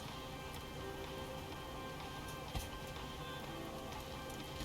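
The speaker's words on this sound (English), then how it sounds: "we're getting a bit of rain again" Rain in a flight simulator flying a Boeing 737-800 (Zibo mod) from Copenhagen to Stansted, a soft, steady hiss of rain against a constant cockpit hum, with one faint tap partway through.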